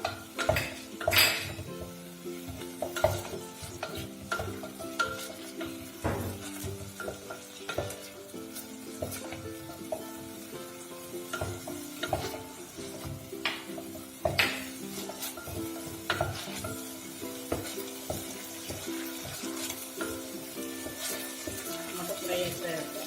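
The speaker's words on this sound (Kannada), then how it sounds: "ಟೊಮೊಟೊ ಚೆನ್ನಾಗಿ ಫ್ರೈ ಆಗಬೇಕದು" Chopped tomatoes fry in a pan for dal dokliya, with a sizzling crackle running under frequent clattering stirs and scrapes of a spoon against the metal pan.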